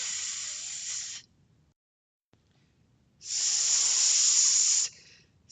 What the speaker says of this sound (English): With a huff and a puff, the wolf started blowing up colorful balloons.